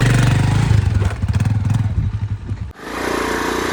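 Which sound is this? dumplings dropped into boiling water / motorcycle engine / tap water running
motorcycle engine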